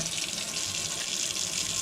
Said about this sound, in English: Alcohol and hot water, and you rinse that out.